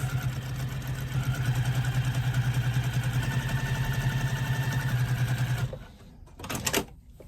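A sewing machine runs steadily as it stitches a bag strap, a loud continuous motor hum with a fast stitching rhythm lasting about five and a half seconds, then stopping abruptly before a few short handling clicks.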